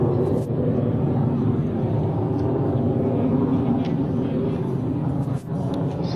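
A Lockheed F-104 Starfighter jet fighter, a Canadair-built single-seat version, flies at an airshow at the Cold Lake airbase, giving a steady, loud broadband roar with a deep rumble that holds throughout.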